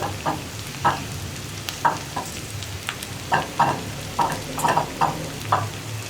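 Capsicum and chilli sauce being stirred into onions frying in a pan for chilli prawns: a steady sizzle broken by repeated close scraping strokes of a spoon, with no voices.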